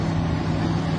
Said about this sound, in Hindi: सोनालिका आ रहा भाई, पहला एक ट्रैक्टर दिखा सोनालिका मुझे यहाँ।